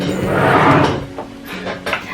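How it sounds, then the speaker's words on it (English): A squeaky drawer is opened or closed at home during makeup, with a loud sliding scrape followed by fainter creaks and knocks, close by and without talk. "you're going to hear a squeaky drawer"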